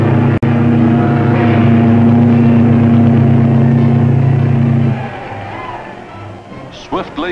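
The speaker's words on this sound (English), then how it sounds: "Swiftly as her mighty engines ease her into the river" A 1950s ocean liner, the Queen, leaves port under her mighty engines and eases into the river. A loud, steady, humming drone holds for about five seconds, then drops to a quieter rumble with faint scattered noises.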